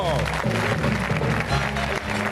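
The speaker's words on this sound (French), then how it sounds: "musique et applaudissements" Studio audience applause on a French television variety show, mixed with music carrying a steady tonal backing, loud and continuous, with a voice briefly over it.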